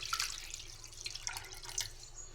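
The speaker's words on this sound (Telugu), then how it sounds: "ఇందులో వాటర్ అయితే వేసుకుందామండి." Water splashes and patters unevenly into a pressure cooker holding mutton pieces, close and fairly soft, with small bursts of splashing over a low background hum.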